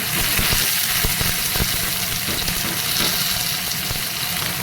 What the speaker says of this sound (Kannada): ಇದೆಲ್ಲ ಹಾಕಿ ಸ್ವಲ್ಪ ಹಸಿ ವಾಸನೆ ಹೋಗೋ ತನಕ ಸ್ವಲ್ಪ ಫ್ರೈ ಮಾಡ್ಕೊಳ್ಳೋಣ ಬೆಳ್ಳುಳ್ಳಿಗೆ